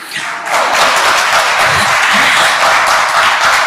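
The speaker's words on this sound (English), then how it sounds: "You're clapping a bit too soon." An audience claps together in a dense, loud burst of applause that starts abruptly and keeps going evenly to the end, with no talking over it.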